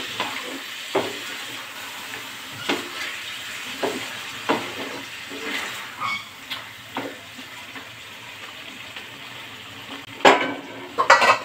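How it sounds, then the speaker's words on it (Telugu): Chicken pieces stirred in a hot frying pan, a steady sizzle running underneath irregular scraping and clinking strokes of a utensil against the pan, with a sharper cluster of clatters near the end. "చికెన్ వేసుకున్నాక బాగా కలుపుకోవాలి."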